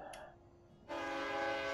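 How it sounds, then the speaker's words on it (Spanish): Locomotive whistle in the Railway Empire train game, a faint short tone at first, then a loud sustained steady horn blast starting near the middle and holding to the end. "Estos silbatos"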